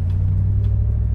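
A Ford V8 engine, a 351, rumbles at a low, steady idle close by, a deep throaty drone with slight pulsing, no voices.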